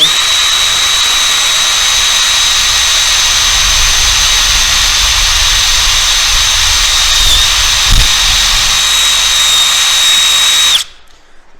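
Power drill boring a pilot hole into a wooden turkey plaque, a loud steady high whine held for about ten seconds with a small knock partway through before it cuts off abruptly.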